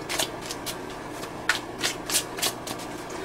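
Tarot cards being shuffled in a tarot reading, a run of crisp riffling bursts repeating about every half second, close and fairly loud, with no talking.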